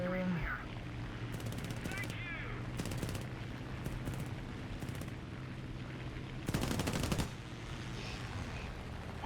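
Aircraft machine guns in War Thunder, fired from a P-26A-34 M2 fighter, rattle out in several separate rapid bursts, the longest near the end, over a steady engine drone.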